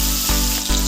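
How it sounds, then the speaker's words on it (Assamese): Fish fries in hot oil in a kadai for an Assamese sesame-seed fish curry, giving a loud, steady, close sizzle with no talk. "এয়া কেৰাহীত তেল গৰম হোৱাৰ পিছত ভালদৰে গৰম হোৱাৰ পিছত মাছখিনি ফ্ৰাই কৰি ল'ম।"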